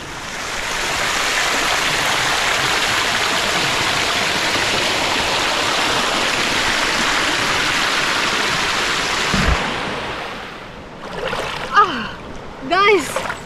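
Water of the Sitawaka river at Deraniyagala rushes in a steady, loud broadband wash for most of the stretch, then drops away as people begin talking near the end.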